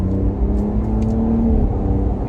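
A 2025 Ram RHO pickup truck engine revs hard with a deep, rough rumble, loud and close, holding steady over a couple of seconds.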